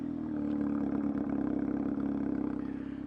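A Venom GTO Howlet 350cc motorcycle engine, F1 edition, idles steadily and loudly close by with a low, even thrum and faint exhaust pulses throughout, no talk.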